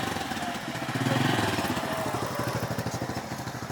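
A motorcycle engine putters close by with a rapid, even throbbing beat that swells briefly and then carries on steadily, heard alone with no talking.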